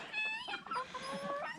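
Chickens cluck and chatter in a busy farmyard flock with guinea fowl about, overlapping calls close by and fairly loud, with no talking.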